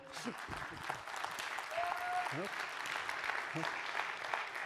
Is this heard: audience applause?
yes